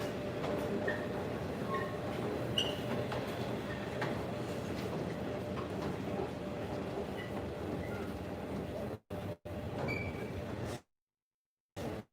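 Washington DC metro train in an underground station, a broad rumbling roar of rolling cars and wheels with faint squeals, steady and moderately distant before cutting out abruptly near the end.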